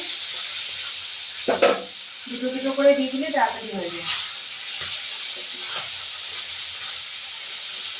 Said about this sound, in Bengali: এখন এটা ভাজা হচ্ছে